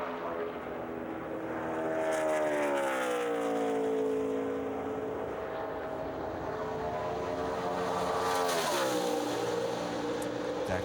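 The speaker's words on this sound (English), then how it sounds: "Out on the track in the 98 car" A NASCAR stock car, the 98 car, on a qualifying lap at the Brickyard, its engine a loud droning roar that rises and falls in pitch as it passes and accelerates, heard continuously at some distance.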